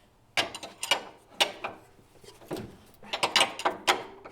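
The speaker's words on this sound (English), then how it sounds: "So to do that, I will have to use this wrench." A wrench turning the spring collar nut on a BMW E9X rear shock with an H&R spring, a series of close metallic ratcheting clicks in uneven bursts.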